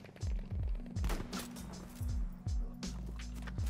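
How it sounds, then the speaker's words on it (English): Rapid gunfire in a team-based shooter video game, sharp close shots arriving in quick clusters of two or three, fairly faint overall with short gaps between volleys. "Oh, someone's shooting at me."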